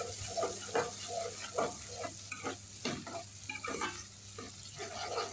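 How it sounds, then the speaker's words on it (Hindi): Chopped onions frying in a pan for a beetroot sabzi, a steady broadband sizzle close to the mic, broken by repeated scraping stirs of a spoon against the pan, with no voices. "अब थोड़ा इसको भी भून लें ऑनियन को"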